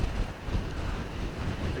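Strong wind buffets the microphone on an exposed high point along the Laugavegur and Fimmvörðuháls hiking trails in Iceland, a loud, continuous roar filling the whole moment with no talk.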